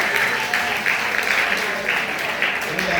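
A church congregation applauds after a young woman's testimony of deliverance at a Sunday service: steady, loud clapping in waves, with voices calling out beneath it.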